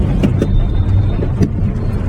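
A car pulls away in second gear on a rainy road, its engine a steady close hum under wet road and cabin noise, with a few soft knocks.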